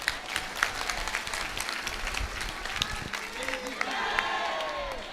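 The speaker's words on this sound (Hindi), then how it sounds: "अब ताली बजाओ।" An audience at a spiritual discourse by a religious teacher claps and cheers in a dense, steady wash of applause that holds for several seconds, with crowd voices mixed in.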